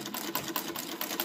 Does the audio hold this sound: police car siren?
no